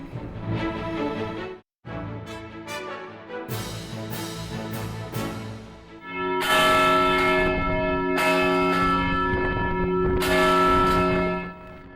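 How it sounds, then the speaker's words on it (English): Church bells ring out loudly across Brooklyn and Queens in overlapping peals, with a brief pause early on before a fuller, sustained wave of ringing. "Church bells ringing out across Brooklyn and Queens"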